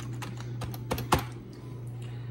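Typing on a Gateway Essential 500C computer keyboard from 2000, a run of close, crisp key clicks with a few louder strikes over a steady low hum.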